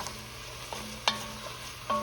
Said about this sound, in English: Put the rest of that garlic in there, y'all. All right. Just stir it around here.